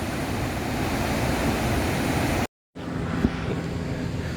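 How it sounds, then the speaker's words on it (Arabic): Roar of Victoria Falls at the first drop of its cascades: broad, continuous rushing water noise, loud and steady, broken by a brief cut before a fainter stretch of the same rush. "أول انحدار لشلال من شلالات فيكتوريا"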